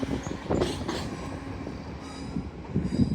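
East Midlands Railway Class 175 diesel unit departing Doncaster station, a steady close rumble of engine and wheels with a few squeals and clatter building toward the end.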